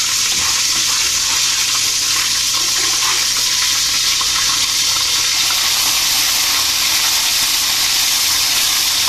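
Water pours steadily into a pot while preparing kutsinta, a loud continuous rushing hiss that stays even from start to finish with no voices.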